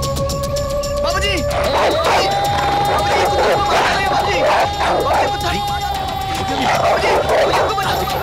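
A dog barks and yips repeatedly amid loud, busy background music and clamor, the barks moderately close and overlapping with crowd-like noise throughout.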